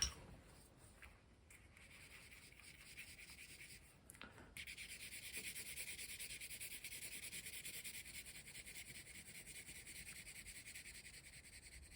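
Colored pencil shading a blue sky across paper, a soft continuous scratchy rubbing that steadies and grows slightly louder after a short pause, close and alone.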